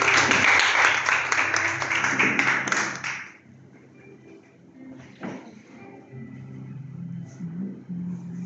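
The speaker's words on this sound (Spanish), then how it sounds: "Brinda un fuerte aplauso al Señor y siéntese." A church congregation claps loudly for the Lord in a dense burst of applause lasting about three seconds, which then fades into quiet shuffling and low room noise.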